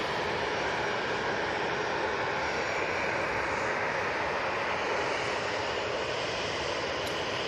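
A Cessna Citation business jet roars steadily at an airport, a broad, even rush of engine noise that holds at constant loudness with no voices over it.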